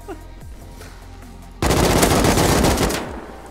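Close, loud burst of sustained AK rifle fire in the video game Rust, a rapid rattling volley erupting midway after quieter game ambience and lasting over a second before tapering off.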